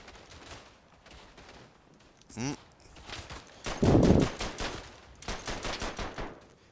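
Gunfire in the World War I shooter Verdun: scattered rifle shots and bursts of fire ring out near and far, with a loud cluster of rapid shots in the middle and footsteps between.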